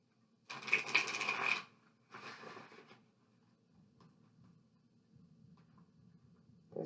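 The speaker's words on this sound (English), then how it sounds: "We're going to give it 3 quick shuffles. I'm going to shuffle down here on my lap" A deck of tarot cards is riffled in quick shuffles on a lap: one longer loud burst of fluttering cards, then a shorter, softer one, followed by quiet handling noise.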